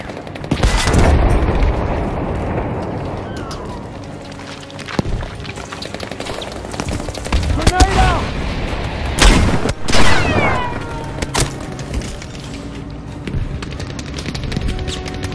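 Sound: artillery barrage and airstrike in the video game Battlefield V

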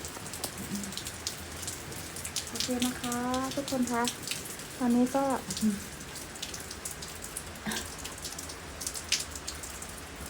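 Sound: heavy rain at night

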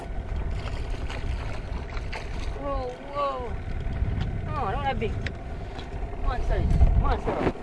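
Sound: boat engine running in a harbour

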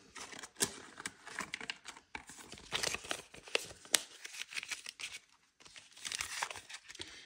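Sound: paper cash bills being handled during a bill exchange

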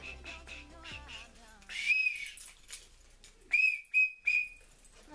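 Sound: whistle being blown

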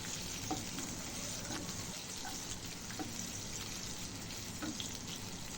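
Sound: frying chopped onion and green chilli with mushrooms

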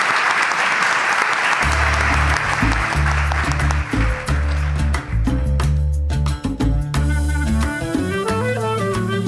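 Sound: audience applause for Lourdes

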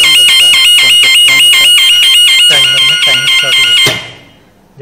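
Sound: buzzer alarm of a DOL motor starter panel

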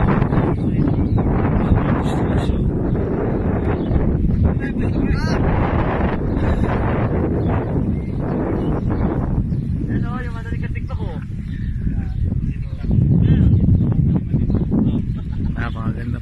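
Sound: wind blowing on boat

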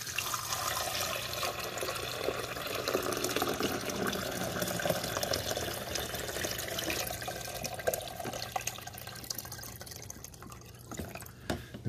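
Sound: pouring vinegar and water into a Cuisinart coffee maker reservoir

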